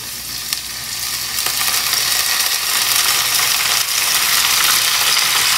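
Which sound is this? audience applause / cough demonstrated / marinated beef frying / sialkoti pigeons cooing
marinated beef frying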